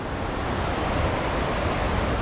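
Rushing water of the Boundary Falls river, a steady, loud broadband roar that stays constant throughout, close by with no voices.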